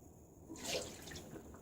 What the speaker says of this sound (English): I'm going to pour out the bloom water.